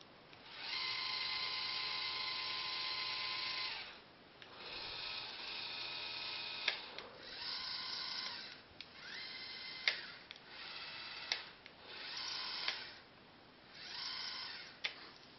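Motors on an Arduino-controlled telescope mount, driven by a joystick, whir with a high-pitched whine in repeated bursts, their pitch and speed shifting as they stop and start.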